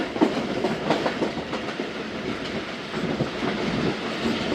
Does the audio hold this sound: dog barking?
no